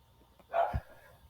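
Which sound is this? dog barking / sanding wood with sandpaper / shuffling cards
dog barking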